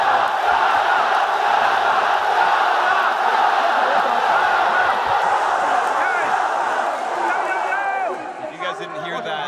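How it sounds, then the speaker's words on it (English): A big arena crowd at an LPL vs GPL League of Legends All-Star 2013 esports match roars and cheers in a sustained loud wash, with excited voices rising over it toward the end. "That was the crowd cheering."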